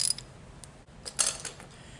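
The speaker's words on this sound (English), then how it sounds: "I'm gonna take a socket wrench with a 3/4-inch driver and I'm gonna tighten this thing right down" Socket wrench with a 3/4-inch driver ratcheting as it tightens a split-bolt wire connector, giving a few faint, quick clicking bursts close by, with no talk.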